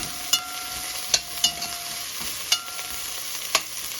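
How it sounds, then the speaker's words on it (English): Cumin seeds and spices frying in a pan for chickpea and cauliflower curry make a soft, steady sizzle, broken by several sharp clicks and pops from stirring. "So let it fry a little, then we add in the beans."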